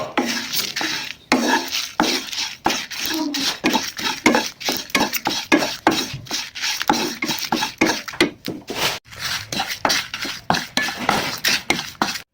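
Whole pickle spices dry-roasted together in a pan, stirred steadily with a spoon or spatula, giving a continuous series of close scraping and rattling strokes against the metal, with no one speaking.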